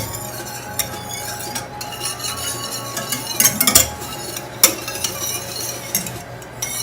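Gravy thickened with all-purpose flour being stirred in a pot, a steady scraping swirl with light clinks of utensil against the pan, moderately close with no talking.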